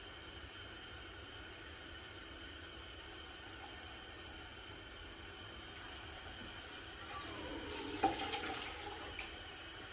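Water running from a kitchen tap into the bottom of a canning pot, a soft steady hiss that brightens and splashes toward the end, faint and alone with no voices.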